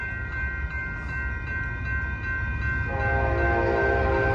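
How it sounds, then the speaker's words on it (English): A southbound Amtrak Coast Starlight passenger train led by a P42DC locomotive passes at a street crossing in Oakland, a loud steady rumble with sustained horn tones that swell near the end. "here comes the southbound Amtrak called Starlight, train number 11"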